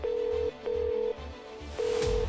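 A mobile phone call rings out as a loud, steady electronic tone pulsed in repeated bursts with short gaps, over a low rumbling background drone.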